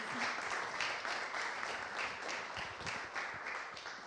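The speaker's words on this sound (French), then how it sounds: "Merci beaucoup Delphine Bénard, qu'on peut applaudir évidemment." Steady applause from an audience, dense clapping sustained throughout at a moderate, even level.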